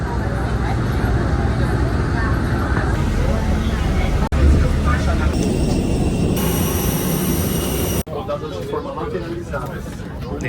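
A steady, loud broadband roar of a modern airliner cabin fills the space, a constant engine and air rush with muffled background chatter from passengers.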